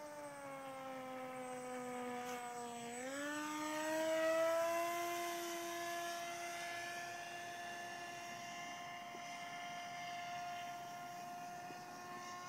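A ParkZone Icon A5 RC float plane flies over a lake, its small electric motor whining at a steady high pitch that rises and swells as it passes nearest, then holds a slightly lower steady drone farther off.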